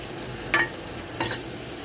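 Turmeric is stirred into mango curry frying in a pan: a faint steady sizzle with two quick scraping strokes of a spoon.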